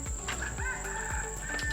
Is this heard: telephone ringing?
no